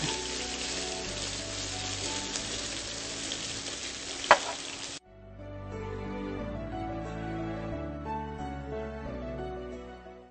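Meat frying in a pan with onion and garlic, a steady close sizzle with one sharp clink, then giving way to a quieter, tonal background.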